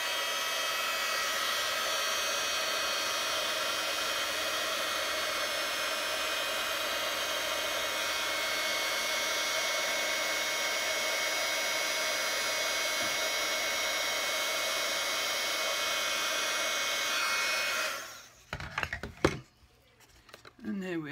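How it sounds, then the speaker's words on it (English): A heat gun blows steadily on embossing powder on a Christmas card, a constant close rushing whoosh with a faint whine, then switches off and leaves a few soft handling noises. "Out comes the heat gun."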